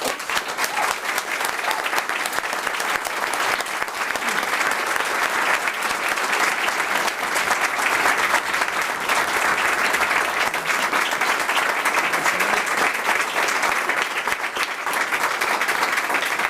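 A large audience claps continuously and loudly for several seconds at a school committee meeting, a dense, steady wash of applause.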